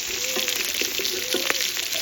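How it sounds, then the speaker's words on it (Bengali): Pieces of chital fish lightly frying in hot oil in a home kitchen, a steady close sizzle with soft crackles and a few stirring clicks, no voices. "ঝোল করবো বলে আজকে হালকা ভাজা করেছি"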